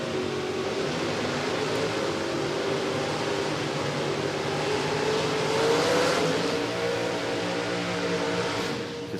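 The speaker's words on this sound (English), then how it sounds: "Both of them just sitting past the burnout, getting ready for their burnouts." Drag racing cars at Sydney Dragway during a professional championship round, engines droning steadily and loudly with a rising pitch sweep near the middle, as the cars prepare for and perform burnouts; no talk.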